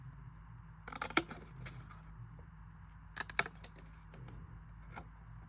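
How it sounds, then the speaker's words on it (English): Scissors snip through Dollar Tree card stock notecards in two short bursts of quick crisp cuts, close and fairly quiet, with a faint hum and soft handling rustle between them. "We're going to cut those out real quick."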